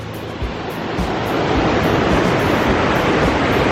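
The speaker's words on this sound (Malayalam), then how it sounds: "നല്ലൊരു സ്ഥലം തന്നെയാണ് നമ്മുടെ അരുവിക്കുത്ത് വെള്ളച്ചാട്ടം" Aruvikuthu waterfall tumbles down in several tiers, giving a loud, constant broadband roar of rushing water that builds slightly and then holds steady, with no voices.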